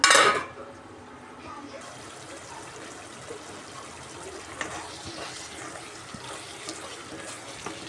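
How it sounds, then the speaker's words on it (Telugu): Mutton liver simmers in boiling water in a cooking pot, a steady soft bubbling and trickling hiss after a brief louder burst at the start, with occasional small pops. "వాటర్ కూడా కొద్దిగా మరిగిపోయాయండి బాగా ఇది ఉడికే వరకు మూత పెట్టుకుందామండి"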